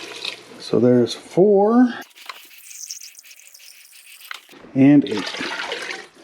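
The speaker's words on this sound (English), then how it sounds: "So now I'm going to go ahead and add the 8 cups of water." Eight cups of water poured into a pot of Cajun gumbo over a cooking roux, a soft splashing rush lasting a couple of seconds between short bursts of someone speaking.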